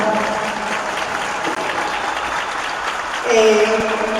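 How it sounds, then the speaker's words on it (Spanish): Audience at a charity basketball game applauding Ramón Barcala, a sustained, dense burst of clapping that swells louder near the end, with some voices mixed in. "Un fuertísimo aplauso, Ramón."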